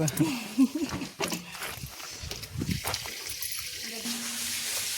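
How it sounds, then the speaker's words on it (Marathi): Borewell water flows and splashes in a continuous trickling wash beneath scattered voices and other household sounds. "बोरिंगचं पाणी"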